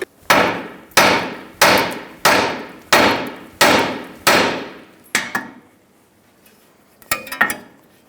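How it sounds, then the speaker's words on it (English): A hammer strikes the side of a steering knuckle near the tie rod end on a 2007-2011 Toyota Camry, giving seven loud, evenly spaced metallic blows up close, followed by a few lighter taps and clinks. "Hit the side of the knuckle near the tie rod end with a hammer."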